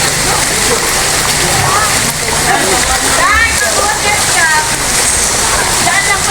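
Floodwater from a typhoon rushes, churns and splashes steadily in Marikina, a loud continuous roar, with voices speaking faintly underneath.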